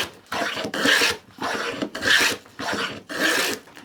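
A moving fillister plane cuts a rebate in wood, five rhythmic rasping strokes about half a second each, close and clear, separated by brief pauses as the plane is drawn back.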